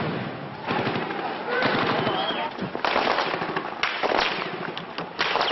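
Sharp bursts of gunfire crackle in a Gaza street, a dense run of rapid cracks and pops carrying loud and close over steady street noise.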